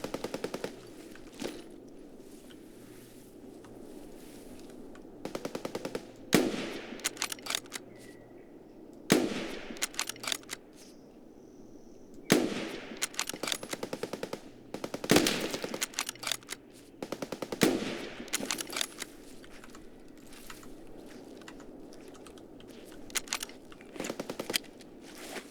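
Escape from Tarkov single-player gunfire: repeated sharp automatic bursts and single cracks in loud clusters separated by quieter gaps, fairly near, over a low ambient hum.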